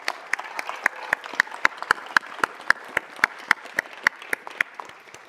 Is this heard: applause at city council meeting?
yes